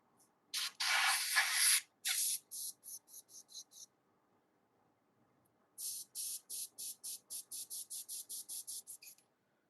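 An airbrush sprays bronze paint, hissing close up in one long burst, then a run of short puffs. After a pause comes a steady series of about a dozen quick, evenly spaced bursts.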